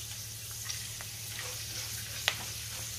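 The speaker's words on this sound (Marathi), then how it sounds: "आता आपल्याला बटाट्याचा किस तळून घ्यायचा आहे" Grated potato frying in hot oil gives a faint, steady sizzling hiss, with one brief sharp clink partway through.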